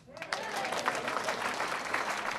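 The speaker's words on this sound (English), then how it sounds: "give him a round of applause" Applause during a town hall on the Affordable Care Act and seniors begins after a quiet instant and settles into a steady patter of clapping, fairly soft and distant.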